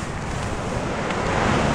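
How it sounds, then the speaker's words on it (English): A strong gust of wind roaring across an exposed quarry edge during a storm tent camp in Bowland, a loud, steady rushing blast with buffeting microphone noise and no talk. "that was a big gust"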